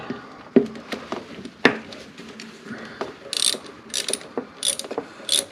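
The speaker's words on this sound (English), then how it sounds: "a palm ratchet." A palm ratchet fitted with a swivel extension, working on a Subaru that won't start in below-zero cold, giving sharp metallic clicks in uneven bursts, close and crisp, with a few louder knocks between runs.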